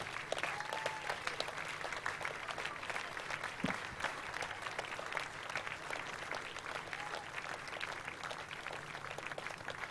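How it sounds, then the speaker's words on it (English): Audience applause at a local hero awards ceremony, sustained dense clapping heard from within the hall, steady and moderately quiet throughout with a brief louder knock partway. "Can we have a big round of applause for Molly?"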